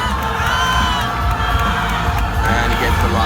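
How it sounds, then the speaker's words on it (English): A loud crowd at a powerlifting meet cheers and whoops steadily through a lifter's final, grinding deadlift attempt, shouts and yells layered into a continuous roar. "Crowd goes wild,"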